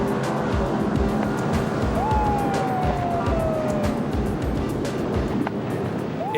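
Emergency boats race across open water to a burning vessel, steady loud engine and surf roar throughout, with a siren wailing in rising and falling sweeps over the wash.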